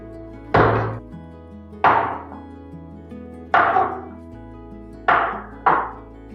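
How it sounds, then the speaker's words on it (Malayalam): Beetroot being chopped into small pieces with a knife on a board: five distinct, fairly loud chops spaced unevenly, each a sharp thunk with a brief ringing tail, and no talking. "ഇതിപ്പം മെഴുക്കുപുരട്ടി ആകുമ്പോൾ നമ്മളിങ്ങനെ ചെറിയ പീസായിട്ട് മുറിച്ചിട്ട് ചെറുതായിട്ട് അരിഞ്ഞെടുക്കണേ"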